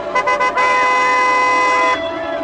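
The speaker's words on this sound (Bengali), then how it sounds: "ঘন ঘন মোটরের হর্ন বাজাতে লাগলো" A motor car horn sounds several short toots and then one long sustained blast, loud and close, with no voices.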